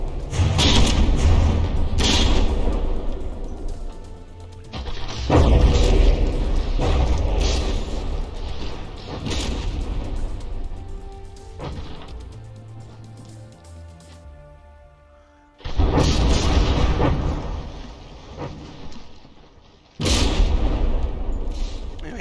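Battleship shells strike ships in the game From the Depths, each hit a deep, heavy boom followed by rumbling decay, several loud impacts spaced across the stretch with quieter gaps between them.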